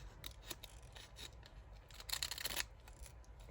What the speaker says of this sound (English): I am just going to fold it over, get my pinking shears